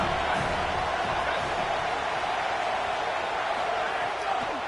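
A college football stadium crowd roars steadily for the home defense during a Bama game, a dense, continuous wash of cheering at full volume throughout.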